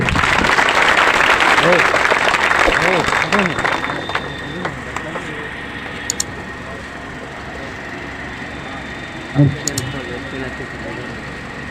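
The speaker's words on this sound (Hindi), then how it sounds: "इनके लिए जोरदार ताली" Audience applause at a student award ceremony in Haripur, Alauli, Khagaria, loud and dense for the first four seconds, then thinning into scattered claps and room noise under occasional voices.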